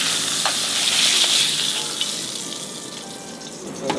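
Duck breast searing in a frying pan, giving a steady, fairly loud sizzling hiss that eases slightly toward the end, with no voices.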